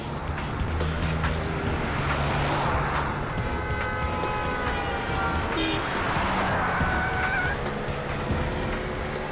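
A car engine drones steadily from inside the moving vehicle, a continuous low rumble with road noise holding level throughout, no talking over it.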